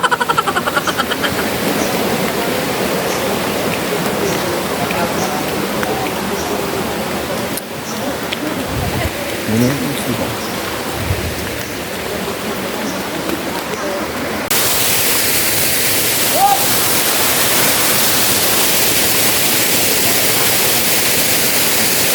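Quezon falls rushing in a continuous loud broadband roar, with the pitch brightening midway, and brief voices and movement sounds mixed in.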